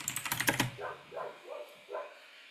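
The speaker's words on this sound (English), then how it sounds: "my dogs are barking" A rapid burst of clicking like keyboard typing at the start, then several muffled dog barks from elsewhere in the home, spaced out and moderately faint.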